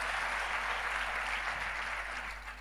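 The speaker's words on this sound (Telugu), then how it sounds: "చప్పట్లు కొట్టి దేవుని మహిమపరుద్దాం." A church congregation claps hands together in praise of God, a dense, even burst of applause that fades slightly at the end.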